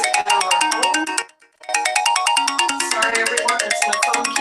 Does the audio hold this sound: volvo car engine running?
no